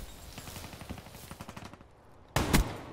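Brecci shotgun fire in Call of Duty Black Ops III: a rattle of quick, moderately loud gunshots in the background, then a lull and one sudden, loud, close blast near the end.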